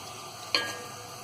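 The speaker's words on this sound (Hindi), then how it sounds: "ये सारे मसाले हम इसमें डाल देंगे। इसे हल्का सा भूनेंगे।" Whole spices, including bay leaf pieces, roasting lightly in a pan for chickpea pulao, a faint steady sizzle with one brief sharp crackle partway through.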